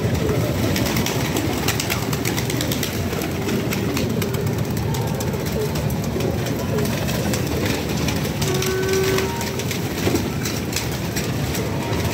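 Pigeons cooing and fluttering as they come out of the coop, amid a constant loud rumbling background, with faint voices at times and a brief tonal whistle partway through.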